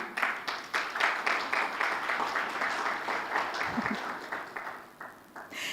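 Steady applause from a conference audience greeting a panelist at an African debt and development meeting, dense clapping sustained throughout and easing slightly near the end.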